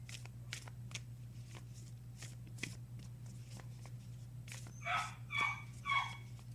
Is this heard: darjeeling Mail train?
no